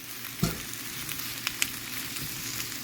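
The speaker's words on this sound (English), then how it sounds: "we're going to throw our onions in oil here. We're going to throw our peppers in there too as well" Onions and peppers fry in oil on medium heat, a soft steady sizzle with a few small pops and a stirring clatter near the start, close and without talk.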